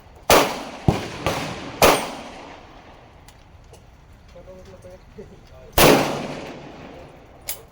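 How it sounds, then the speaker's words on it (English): A Colt Kodiak .44 Magnum revolver fired single action gives sharp, loud, booming reports with echoing tails: three big blasts and two lighter cracks in quick succession, a long pause, then another heavy shot and a last short crack. "First shots fired out of my Colt Kodiak."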